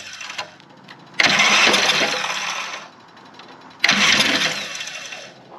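A Craftsman LUV riding mower engine is cranked on starting fluid, giving two loud bursts of starter whirring and sputtering, each lasting about a second and a half before cutting off, close and alone.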